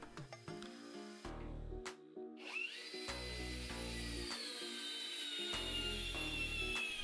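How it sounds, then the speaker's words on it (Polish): Bosch GSR 12V-35 FC brushless cordless drill driver sinking a 5x70 screw, with several short motor bursts followed by a sustained whine that holds steady as the screw drives in. "Z wkrętem 5x70 wiertarko wkrętarka poradziła sobie bez problemów."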